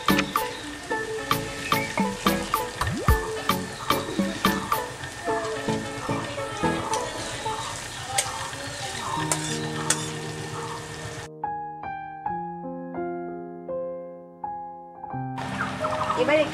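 Cumin seeds and chopped ginger crackle and sizzle in hot refined oil, a busy frying hiss with sharp pops, later giving way to melodic background music and a brief quiet gap.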